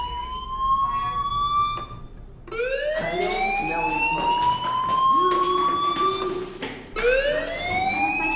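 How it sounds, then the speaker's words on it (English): A school fire alarm in the video game Life Is Strange wails in repeated rising electronic sweeps, loud and continuous, with brief gaps between cycles and no talk. "Hey, do you hear that fire alarm?"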